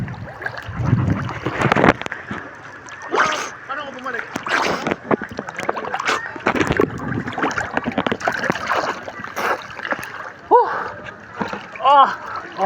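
River water splashes and sloshes at the Daraitan River in Tanay, Rizal, in irregular bursts close by, mixed with wind and several people talking throughout.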